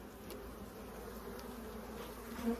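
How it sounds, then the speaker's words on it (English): A dense, steady hum of many bees buzzing nearby, with one growing louder as it passes close near the end. "These bees aren't that nice, they're a bit grumpy."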